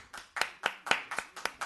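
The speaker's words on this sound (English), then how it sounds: "And clap for everybody." Audience at a town board meeting claps in sharp, close bursts, about seven or eight quick claps in a steady rhythm with no talk over them.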